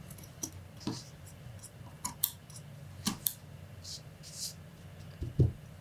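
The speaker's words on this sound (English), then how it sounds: "you can do this entire step with your scissors" Scissors cut through felting material in irregular, close snips and soft crunches, about a dozen cuts spread over several seconds with a final thump, with no voices.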